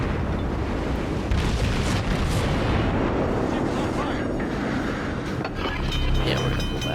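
Booming naval gunfire and shell impacts from the naval battle game World of Warships form a dense, loud rumble throughout. Bursts of blasts overlap with continuous roaring noise, with no clear pauses between them.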